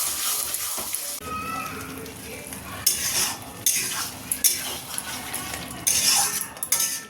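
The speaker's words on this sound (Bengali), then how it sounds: "আলুগুলোও দিয়ে দিলাম, ভালো করে কষাবো" Half-boiled potatoes being stirred and sautéed in a hot pan, a utensil scraping and clinking in repeated strokes over a soft, steady sizzle, close and fairly loud.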